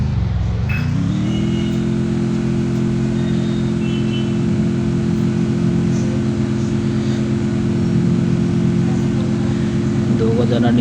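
A jeep's engine drones at a steady, loud level in the Free Fire video game, lifting in pitch at the start and then holding an even hum throughout.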